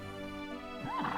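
A horse in the Dragon Quest VIII video game gives a short, clear neigh, a brief rising and falling whinny heard up close.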